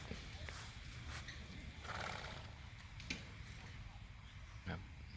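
Horses tied up and standing by at a polo ground before play, with a snort or whinny, occasional hoof thuds and people talking nearby over outdoor background noise.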